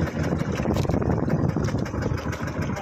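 A fishing boat's engine idles steadily up close, a dense low rumbling chug that holds constant without rising or falling, with no clear speech over it.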